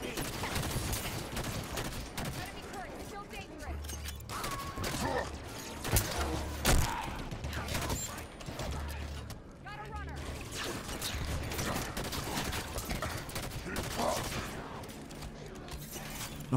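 Gunfire in the video game Halo 5: Guardians, repeated bursts of shots and mechanical weapon sounds amid busy game noise and low thumps, with a player's voice talking over parts of it.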